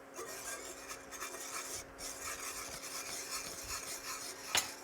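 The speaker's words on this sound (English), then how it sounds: "I just want to kind of stir this around until the butter is incorporated" Butter being stirred into sugar in a skillet for a miso-caramel sauce, a continuous soft scraping and rubbing of a utensil against the pan, faint and unbroken, with one brief louder scrape near the end.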